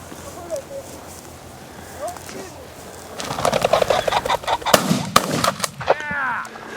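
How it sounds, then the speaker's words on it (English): Pheasant hunting in open country: a sharp, close gunshot cracks out amid a burst of bird wing flutter and calls, with people talking before and after the shot. "I like shooting pheasants"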